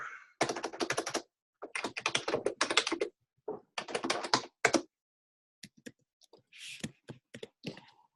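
Fast, vigorous typing on a computer keyboard, close by, in dense bursts of rapid clicks separated by short pauses, with a few isolated key taps toward the end.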